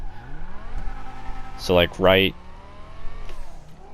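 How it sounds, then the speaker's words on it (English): A car in the GTA 5 video game revs, its engine pitch climbing and holding in a smooth, high purr, partly covered by someone speaking in the middle. "the car is going to make a little high-pitched purr right before it goes"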